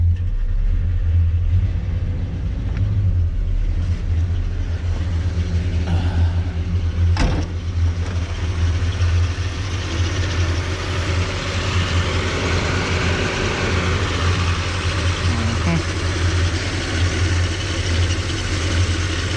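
A 1978 Chevy El Camino engine runs steadily up close with a low, continuous rumble and the faint flap of a loose drive belt, without talk.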